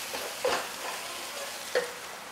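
Bay leaves, cloves and black cardamom sizzle steadily in hot oil for chicken biryani, a soft continuous crackle broken by two brief stirring scrapes.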